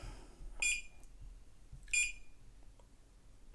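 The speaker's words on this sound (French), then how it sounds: "Ce petit bip par contre m'énerve un petit peu" Two short, high electronic beeps about a second apart from a Tuya smart clock, clear but not loud, over a faint background hum.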